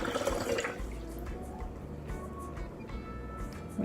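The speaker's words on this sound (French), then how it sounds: "Et puis je vais mettre 2 verres ou alors 500 ml d'eau." Water pours into a blender jar holding almonds, a steady close splashing and trickling wash that runs for a few seconds before fading.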